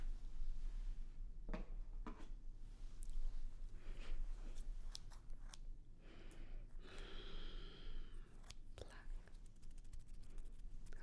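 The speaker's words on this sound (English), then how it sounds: "Scissors from grade 3." Scissors snip in a few quick, quiet cuts between soft whispered words, up close and intimate.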